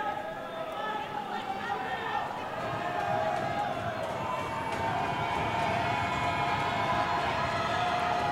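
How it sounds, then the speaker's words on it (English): A basketball crowd on its feet roars and cheers in a college gym during a tense late-game moment, a steady dense wash of noise with a commentator talking over it. "The crowd's going crazy. Everyone on their feet, making noise."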